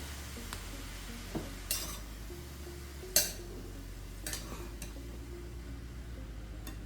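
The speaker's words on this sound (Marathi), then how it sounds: "आता आपण हा एक दोन मिनटं चांगला आहे तुपामध्ये पूर्ण असा परतून घेणार आहे" Grated carrots sauté in ghee in a pan on low heat, sounding as a faint, quiet sizzle broken by occasional spoon clinks and scrapes against the metal.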